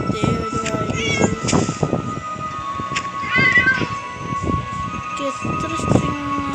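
A cat meows several times in short, fairly loud cries close by, with other background noise and a steady hum behind them.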